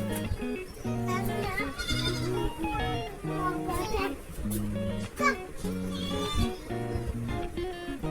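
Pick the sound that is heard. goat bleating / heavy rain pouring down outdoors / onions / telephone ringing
goat bleating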